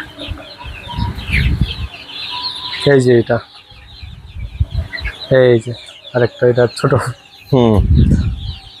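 Desi hens clucking on a rooftop farm, repeated close, loud clucks and squawks in bursts, interleaved with someone talking.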